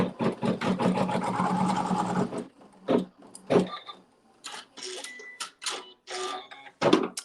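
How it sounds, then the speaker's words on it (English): A sewing machine stitches a seam in fabric for a log cabin quilt block, first with a short run of rapid whirring stitches, then a string of separate short bursts and clicks with quiet gaps between them, close by. "Machine stitches a seam."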